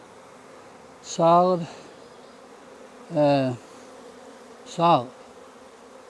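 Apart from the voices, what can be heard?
honey bees buzzing on a hive frame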